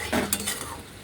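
Eggplant and hilsa fish cook in a pan for a Bengali dish, with a brief close sizzle and the scrape and clink of a utensil stirring.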